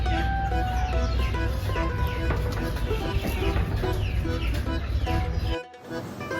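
Chickens clucking and squawking close by, layered with other voices and background noise, ending in a sudden drop to quiet.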